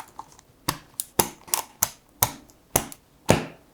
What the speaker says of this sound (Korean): 이건 체리 청축 스위치입니다.